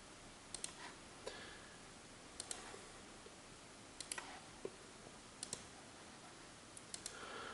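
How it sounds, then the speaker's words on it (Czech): Left mouse button clicks sound in sparse single and double taps, sharp and close, spread across a quiet background with no talk. "klikneme levým tlačítkem myši"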